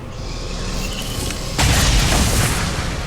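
A weapon fires at a Codex enemy in the XCOM video game, a sudden loud boom that bursts in midway and lingers as a broad roaring blast, with no talk.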